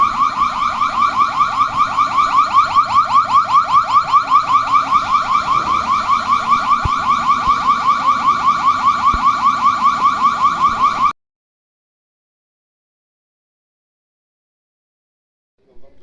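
A gas-fired poultry-house heater's alarm siren gives a loud, close, rapidly warbling electronic wail that pulses steadily for about eleven seconds, then stops abruptly. Silence follows, with a faint bump at the very end.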